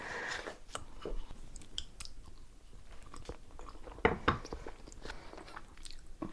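Someone eats lemon and polenta cake with syrup, with soft, close chewing and occasional crunchy bites and light utensil scrapes in a quiet room.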